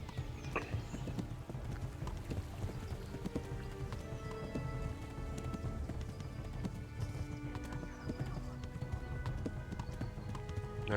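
Rapid hoofbeats of a galloping horse in Kingdom Come: Deliverance pound steadily and continuously, close and rhythmic, with no talking.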